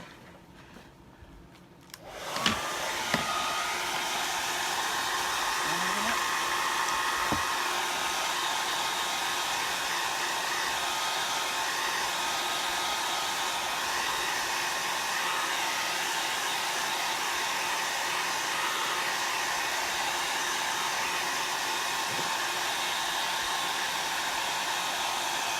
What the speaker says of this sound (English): Okay, again with the blow dryer.